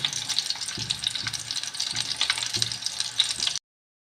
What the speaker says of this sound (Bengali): এই চিকেন নাগেটসগুলো ফ্রাই করা হয়ে গেছে।